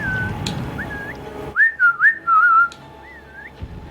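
A person whistles a short melodic phrase of several rising and falling notes, loud and close, preceded by fainter whistling under background noise.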